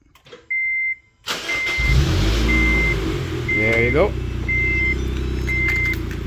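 A 2006 Honda Civic, fitted with a push-to-start conversion, is remote-started: alarm beeps chirp, the starter cranks briefly, and the engine catches and settles into a steady close idle. A person speaks briefly.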